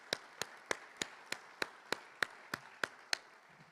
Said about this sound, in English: Can we get a round of applause for Scott?